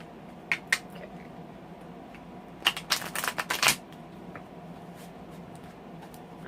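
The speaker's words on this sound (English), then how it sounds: "I'm trying to shuffle above the table because the camera keeps rocking." Tarot cards are shuffled above a table, with a quick flurry of riffling snaps in the middle and a few scattered card slaps before and after, close to the listener.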